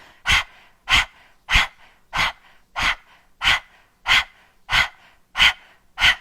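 Rhythmic breathy panting by a person with tongue out during yoga, about ten even, forceful huffs close to the microphone, like a dog panting, with near silence between them.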